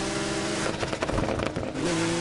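A car engine in the racing game Need for Speed Heat, still running its original engine, revs up and surges for a couple of seconds, loud and close, with a brief throttle swell in the middle.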